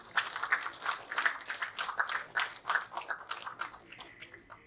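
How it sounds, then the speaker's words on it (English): Audience clapping and applause at the opening of an IBM Power event, a dense crackle of many hands that peaks and tapers off, fairly faint and distant. "Can we begin this event with a huge round of applause"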